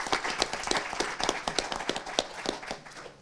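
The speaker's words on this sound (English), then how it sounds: "we can give him a round of applause" A small audience at an enterprise risk management panel event claps after a panelist's introduction. The individual hand claps are distinct and fairly quick, closely spaced and steady, rather than a dense roar, and they continue without speech.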